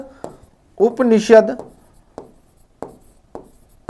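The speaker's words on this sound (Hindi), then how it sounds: "अगला पॉइंट लिखते हैं अपन" A pen scratches notes on a board or paper during a lecture on ancient Indian history, with short distinct strokes at intervals around a burst of someone speaking.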